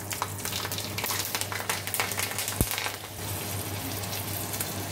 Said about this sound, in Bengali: এবার দেখো ফোড়ন দিয়ে দেবো কালো জিরে কাঁচা লঙ্কা।